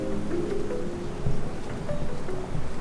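Steady rain falls outside a villa in Bali during the rainy season, a soft continuous patter heard close by and alone, with a faint low rumble underneath.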